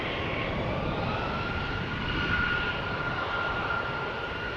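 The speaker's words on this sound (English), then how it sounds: "Embraer 175 to Stavanger. KLM flight 1177." A KLM Embraer 175 regional jet rolls out on departure at Amsterdam Schiphol, its engines spooling up into a steady, broad roar that holds level and fairly close for the whole stretch, with no voices.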